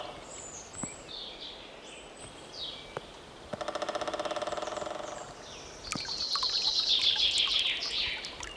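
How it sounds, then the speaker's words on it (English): Birds in a Siberian taiga forest in spring: scattered chirps and trills, a rapid buzzing rattle in the middle and a high sustained twittering song toward the end, over faint background hiss. "The air becomes filled with trills and chatter of birds, the murmur of cool forest streams"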